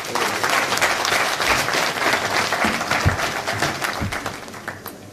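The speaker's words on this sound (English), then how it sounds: "Please let's give another round of applause to all the young people who have spoken." Audience clapping at a book launch, a dense steady round of applause with individual claps standing out, continuing for about five seconds and thinning slightly toward the end.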